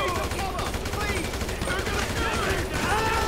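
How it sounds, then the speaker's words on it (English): A dense run of gunfire fills a mission in Grand Theft Auto V, with rapid overlapping shots coming from several directions in a continuous loud barrage. "I'm getting shot from everywhere right now."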